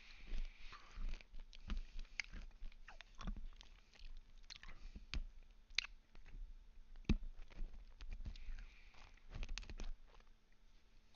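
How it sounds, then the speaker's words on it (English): Someone chews a Kit Kat close to the microphone, producing quiet, irregular crunching and clicking bites that run steadily for several seconds with no talking. "I forgot to mute through my chewing"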